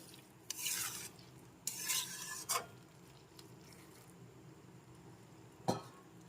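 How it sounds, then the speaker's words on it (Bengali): Bottle gourd and chhana stir-fry being stirred in a pan, a few separate scraping, rasping strokes with short pauses between them and a final sharp scrape near the end, close and clear with no talk. "এখন নেড়েচেড়ে ভালো করে মিশিয়ে নিতে হবে"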